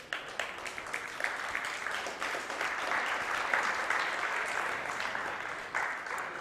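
A crowd at a Griswold basketball game applauds steadily, a dense wash of clapping from many hands that holds at a fairly even level throughout, with no voices.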